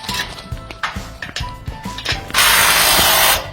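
A torque wrench ratchets in short clicking bursts while bolts are tightened at a large solar farm, ending in a longer continuous ratchet run, loud and close.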